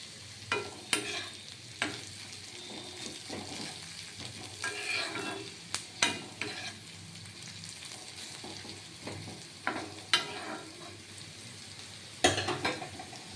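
Young bottle gourd peel fries in a pan while being stirred: a steady soft sizzle runs throughout, broken by repeated scraping clacks of the spatula.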